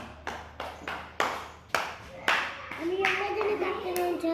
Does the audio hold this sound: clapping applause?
yes